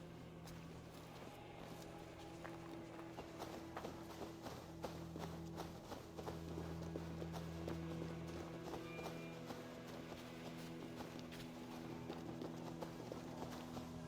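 Steady clip-clop of horse hooves at a trotting pace in Assassin's Creed, close and continuous, with a low hum running underneath.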